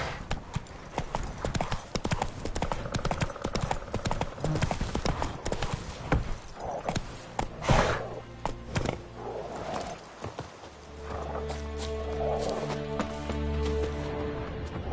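Horse hooves clip-clop steadily while riding in the video game The Witcher 3. The hoofbeats are close and continuous, and they soften toward the end under a low background hum.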